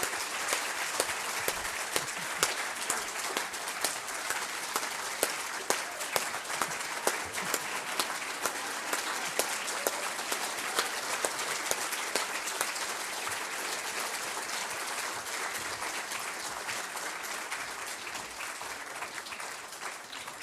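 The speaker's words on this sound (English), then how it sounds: "perhaps I could ask you to join me for another round of applause for Daniel Ellsberg" An audience at a panel on prosecuting whistleblowers gives Daniel Ellsberg a sustained round of applause, a dense, even wash of clapping lasting about twenty seconds with a few sharper nearby claps and no speech.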